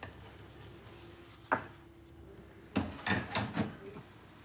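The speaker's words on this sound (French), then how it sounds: "fait la vaisselle dans une cuisine petite" Dishes being washed in a small, worn kitchen: a single sharp clink, then a quick run of clattering knocks and scrapes of crockery, close and fairly quiet, with no voices.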